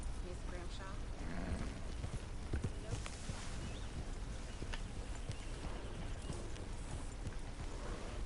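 Horse hooves clip-clopping in a video game, a steady, fairly quiet rhythm of hoof steps under a busy background of game sound throughout.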